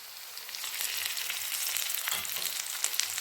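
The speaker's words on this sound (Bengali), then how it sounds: "এবার আমি এর মধ্যে দিয়ে দিচ্ছি গুঁড়ো মশলাগুলো।" Ginger and garlic fry with ground spices in a pan, making a close, steady hiss that swells slightly, with a few soft stirring scrapes near the end.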